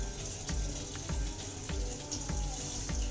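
Water is poured into a cooking pot of makhana with fried cashews, a steady splashing rush with faint sizzling and light knocks at regular intervals, close and continuous.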